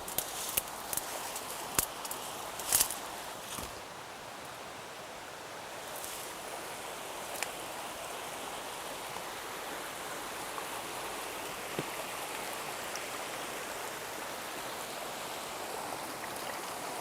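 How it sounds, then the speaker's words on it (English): A creek runs steadily outdoors, a continuous broadband rush of water with a few faint clicks and rustles on top, unbroken for the whole stretch. "I hear water running out there."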